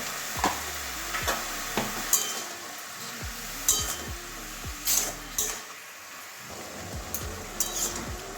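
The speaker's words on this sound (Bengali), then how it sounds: "এবারে ভালো করে মিশিয়ে দেবো নুনের সঙ্গে" A spatula scraping and clinking in a pan while bottle gourd is mixed with salt and turmeric, irregular knocks and scrapes over a faint steady sizzle, close and moderately loud.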